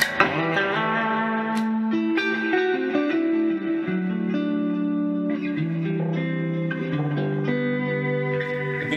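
A loud, distorted electric guitar plays sustained chords and shifting notes through a Boss Katana amplifier, thick and continuous with a slightly fuzzy edge.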